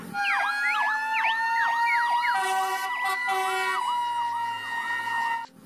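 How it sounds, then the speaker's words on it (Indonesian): A red toy fire engine's siren plays loud and close, a rapid repeating electronic warble that keeps cycling up and down, with no talking over it. "Yang ini mobil pemadam."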